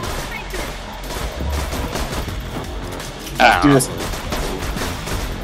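Gunfire in a video game, a busy patter of shots and impacts running under game sounds, with a brief louder burst near the end and a voice speaking briefly.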